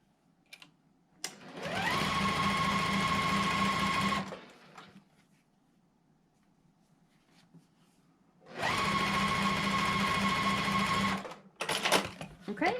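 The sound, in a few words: sewing machine joining quilt block pieces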